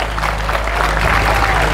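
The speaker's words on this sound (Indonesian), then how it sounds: "tepuk tangan untuk para kepala desa yang hebat ini" Audience at a religious haul gathering in Bunten Barat village applauding the village heads, a dense sustained clapping from a large crowd over a low hum.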